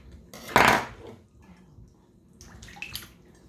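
Water mixed with vinegar splashes and pours into a bowl for washing raw chicken, one loud close splash followed by smaller sloshing and clinking sounds.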